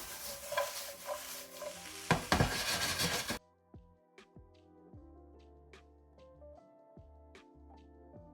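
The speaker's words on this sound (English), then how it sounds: "you let it fry down for about 3 or 4 minutes or so" Food frying in a traditional clay pot for Bulgarian kavarma, with a steady sizzle and occasional stirring and scraping against the pot. A louder, busier stretch gives way to quieter frying with faint metallic clinks.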